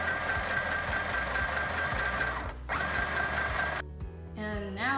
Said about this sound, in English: And now sew around the mask.